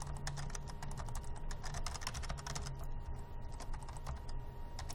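Rapid, steady typing on a computer keyboard, dense clacking keystrokes running continuously for the whole stretch at close range, with no talking over it.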